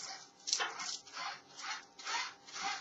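Thermal transfer ribbon being wound onto the upper spindle of a Printronix T5000 label printer, heard as a series of soft, close rubbing and scraping pulses that rise and fall in a steady rhythm, about five strokes, with no talking.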